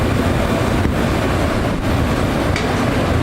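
A train rumbles steadily near Wrigley Field in Chicago, loud and continuous, with a rolling rail roar and no talk.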